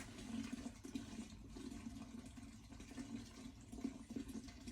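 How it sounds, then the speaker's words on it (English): Steady running water pours continuously, a constant rushing wash with a low hum beneath it and no speech. "Now there's just water running in the background there."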